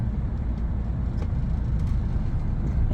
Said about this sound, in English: You've got to press that throttle all the way down.